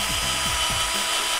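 A power drill bores into a standing bamboo stem outdoors to tap water, giving a steady, close, continuous whirring grind with a few rising pitch sweeps and no talk.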